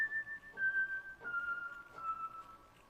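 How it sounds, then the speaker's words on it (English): A breathy, whistle-like flute sample from the F100 Flutes patch in Kontakt plays a few held notes that glide gently downward, soft and alone over a faint, noisy low background. "It's just called F100 Flutes,"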